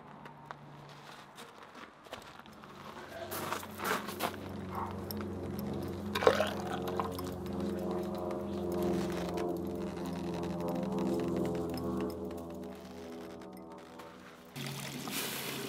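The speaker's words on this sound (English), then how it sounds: "When I was done, I submerged the castings in water to help cool them down." Hot cast aluminum bolts dunked in water to cool, a steady bubbling, hissing sizzle that swells and holds near the microphone after a few clanks of handling, with no talking.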